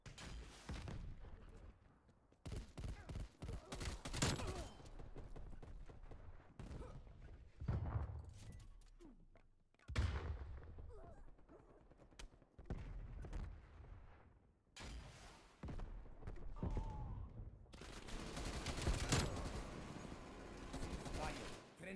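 Gunfire in a first-person shooter hardpoint match: bursts of automatic fire and shots recur throughout, mixed with thuds and game announcer callouts.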